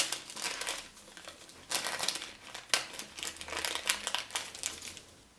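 Baking paper crinkles and rustles in irregular bursts as it is handled and pinned onto fabric for sewing, close and fairly quiet, with no one speaking.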